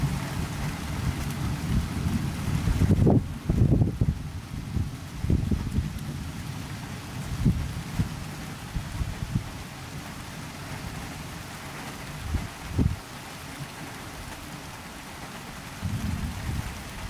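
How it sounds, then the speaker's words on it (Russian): A thunderstorm rolls over a rural homestead in the evening, with steady rain hissing on surfaces and several deep thunder rumbles and cracks breaking through at irregular intervals, fairly close. "вечером к нам пришла гроза. Сейчас она прям расходится на глазах. Сверкает, гремит. Дождик идет."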